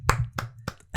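Four crisp finger snaps ring out at an even pace, close and fairly quiet, with no talking.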